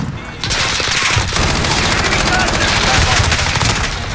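Rapid automatic gunfire in a video game, dense bursts of shots repeating almost without pause for several seconds, loud and close, with players' voices mixed in underneath.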